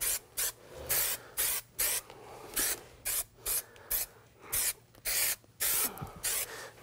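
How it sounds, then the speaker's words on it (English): 3M Super 77 spray adhesive is sprayed in about a dozen short, sharp hissing bursts with brief pauses between them, applied to fabric and foam up close. "Just spray both sides of the material and the foam."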